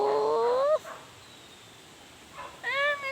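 A pet dog named Asta lets out a couple of short, rising whiny yips, one near the start and another at the end, separated by a quiet pause.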